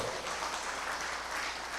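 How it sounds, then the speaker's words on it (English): Applause from a party rally crowd at Felicity Hindu School rolls on as a steady, hissing wash of many clapping hands, fairly faint and distant, with no voices standing out. "Give him a round of applause"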